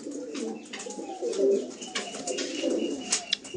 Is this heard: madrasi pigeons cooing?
yes